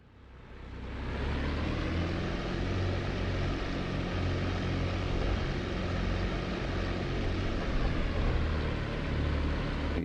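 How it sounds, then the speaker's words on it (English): Fw 190 D-9 Dora propeller engine in the DCS flight sim, a deep, steady rumbling drone that swells in over the first second, then holds loud and continuous with no talk over it. "You can see how very, very rumbly this airplane is."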